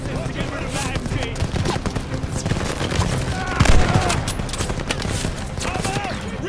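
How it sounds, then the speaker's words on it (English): A tower gunner's machine gun rattles in rapid, continuous bursts during Call of Duty Vanguard combat, with a louder impact near the middle and voices shouting over the gunfire. "Pin the tower gunner! To get rid of that MG!"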